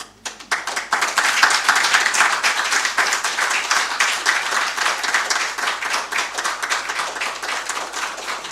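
A conference audience applauds the chairman and committee at an economic dialogue event, dense sustained clapping from many hands that starts abruptly and continues loud and even, slowly thinning toward the end.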